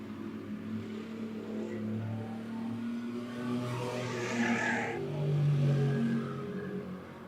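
Bomber-class stock cars racing a dirt track heat race at Monett Motor Speedway, engines droning and revving in a continuous loud roar that swells as cars pass nearby, with a steady mechanical whine.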